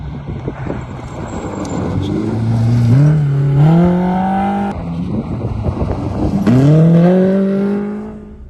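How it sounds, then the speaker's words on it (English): A race car on a road passes close by twice, each time with a loud engine note that climbs steeply as it accelerates through the gears. Wind buffets the microphone between the runs. "I hope you enjoyed that little race car snippet"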